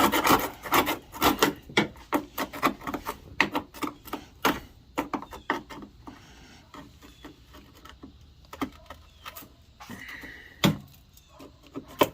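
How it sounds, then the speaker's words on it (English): A chisel scraping old debris out of a car windshield channel, rendered as repeated short, sharp rasping and scratching strokes in uneven bursts, close and fairly loud, with quieter gaps between them. "And you just got to kind of chisel them out of there like so."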